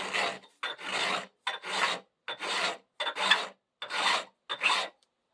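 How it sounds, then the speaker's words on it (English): A file rasps across the sawn end of a metal lamp pipe in eight steady, even strokes, each a loud scraping drag followed by a brief silence. "Just drag this down the file. I keep doing that until all the saw marks have disappeared."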